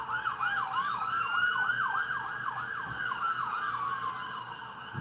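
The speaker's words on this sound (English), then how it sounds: "I see the ambulance" An ambulance siren wails in a rapid, steady up-and-down cycle, clear and sustained over a low rumble of road traffic.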